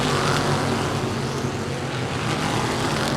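Dirt-track factory stock cars roar through the final lap of a feature race at a speedway, a loud, steady wash of engine noise with no clear gaps or pass-bys.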